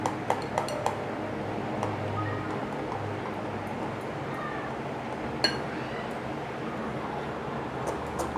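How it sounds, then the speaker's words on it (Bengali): Dhokla batter being whisked hard in a bowl, giving a steady stream of soft clinks and scrapes from utensil against the bowl, close and continuous, with a few sharper taps. "খুব ভালো করে ফাটান।"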